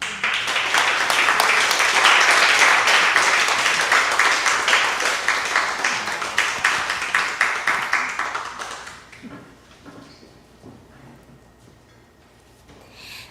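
An audience at a Unitarian Universalist justice gathering applauds loudly for about nine seconds. The clapping then thins out to scattered claps and quiet room noise.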